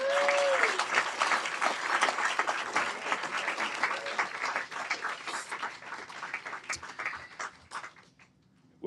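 Sustained audience applause at a Politics and Prose bookstore author event, a dense steady patter of many hands clapping for several seconds before thinning out and stopping near the end.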